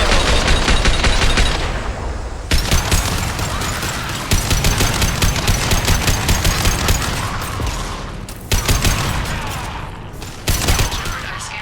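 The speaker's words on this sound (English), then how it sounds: "Heavy weapon." Heavy weapon gunfire in the Mass Effect 2 video game, loud and sustained as rapid bursts of shots that stop briefly several times and then resume, with no talking over it.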